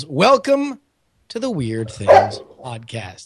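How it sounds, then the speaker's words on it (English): Dog-like barks and yips sound sharp and close, broken by a short silence, as people talk over them throughout. "That is a dog."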